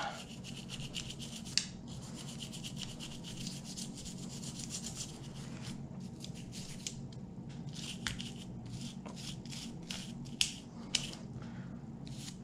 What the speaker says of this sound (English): once you've got all the carbon and surface rust and all that gunk cleaned out of there